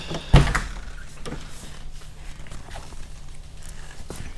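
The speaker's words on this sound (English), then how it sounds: "Let's see how the door closes." A single solid thud of a Toyota AE86 car door shutting near the start, after new hinges are fitted, followed by faint rustling and light handling noises.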